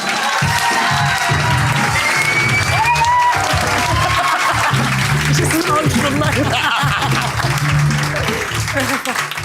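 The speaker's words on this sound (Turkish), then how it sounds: "Alkışlarınızla Gupse Özel geliyor." A talk show studio audience claps and cheers as a guest arrives, loud sustained applause with music and voices mixed underneath.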